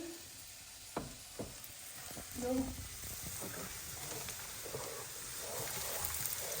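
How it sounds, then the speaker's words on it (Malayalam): Snacks deep frying in hot oil in a pan, a soft continuous sizzle with a few sharp taps and stirring noises early on, heard quietly with faint talk in the background. "ഇനി ഓരോന്നായിട്ട് ഇട്ട് കൊടുത്ത് വറുത്തെടുക്കാം."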